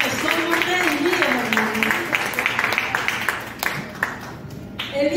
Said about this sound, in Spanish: Un aplauso para el Señor, porque Él se lo merece